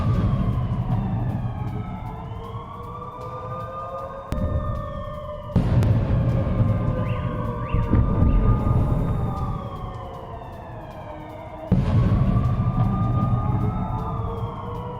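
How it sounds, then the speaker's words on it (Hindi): An air raid siren sounding in Russia during a Ukrainian drone attack, its loud sustained tones rising and falling in long sweeps, cutting off and restarting several times with a low rumble beneath. "एयर रेड सायरन भी बजते हुए दिखाई दे रहे हैं।"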